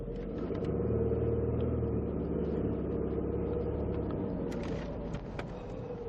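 A Mercedes-Benz E300 E-Class sedan accelerates hard. A steady, low engine drone and road rumble are heard from inside the cabin, moderately loud and sustained. There are a few faint clicks near the end and no speech.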